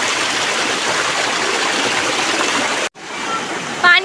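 Water rushes steadily from a village spring in a continuous loud wash, then cuts off abruptly to a quieter, thinner flow for the last second.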